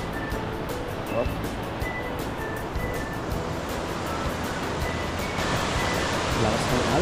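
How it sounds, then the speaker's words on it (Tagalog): Strong river water rushing through a valley among the mountains near Hiwang Village in Banaue, a steady loud roar of churning current that fills the whole clip. "Lakas ng alon."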